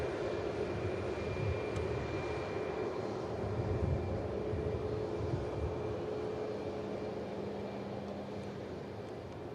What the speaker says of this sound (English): This aircraft's coming from Izmir.